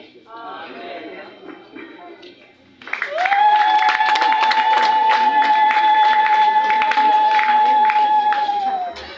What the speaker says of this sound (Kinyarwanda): Reka dukomeze dukome amashyi dushimira Imana.